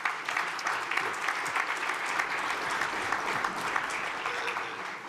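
Audience members at a governors' association winter meeting applaud in a full, steady wash of clapping that continues evenly for several seconds.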